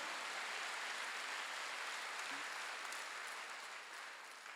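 A church congregation applauds during a Sunday worship service, a faint, steady wash of distant clapping that holds evenly and tapers slightly near the end.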